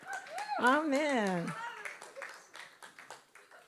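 Church congregation at Smárakirkja breaking into scattered clapping after a drawn-out sung "Amen" from a voice, the claps building into a moderate round of applause in the hall.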